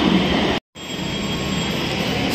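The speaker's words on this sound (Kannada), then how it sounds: "ಮೆಟ್ರೋ ಇನ್ನೇನು ಆಲ್ಮೋಸ್ಟ್ ಬಂದುಬಿಟ್ಟಿದೆ ಅನ್ಕೋತೀನಿ" A metro train pulls into a station platform with a steady, loud rumble of wheels on rails and a faint high squeal, continuous throughout with no voices.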